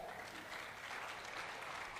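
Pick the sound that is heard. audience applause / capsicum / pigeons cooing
audience applause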